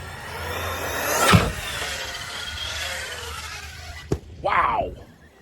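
A Tekno ET48 2.0 RC car launches with a rising electric-motor whine that sweeps up and fades over a couple of seconds. A sharp snap follows, then a brief voiced exclamation.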